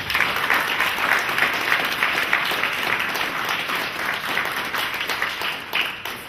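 Many hands clap together at a Hartford community gathering, a full, continuous round of applause holding steady throughout before thinning slightly at the very end.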